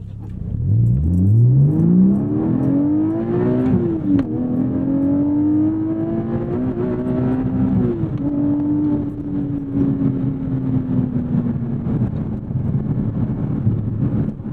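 A 2024 Porsche 718 Boxster GTS 4.0 revs up hard, drops briefly on each gear change, then pulls again with a sustained roaring exhaust, heard from inside the car.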